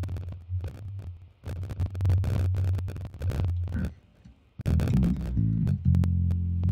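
Deep, booming bass filtered to 88 Hz pulses in a steady musical pattern, with clicks and higher percussive drum hits layered on top, loud and continuous with a brief drop midway.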